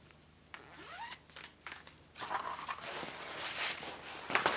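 A zipper is worked by hand while sewing a hanging shoe bag, giving short quiet rasping pulls and fabric rustles in several bursts, close and soft.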